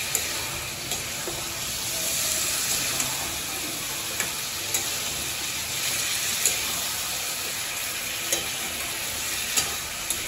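Chicken curry sizzles steadily in a hot pan while being stirred, a dense continuous frying hiss with small periodic scrapes and taps of the spoon, close up and without talking.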